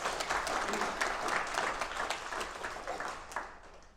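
An audience at a blockchain presentation claps together in a steady wash of applause, dense and even at first, then thinning and fading over four seconds.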